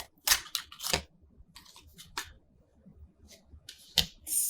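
Tarot cards are shuffled overhand in a series of quick, crisp riffling slaps and rustles, close and irregular, with brief pauses between bursts.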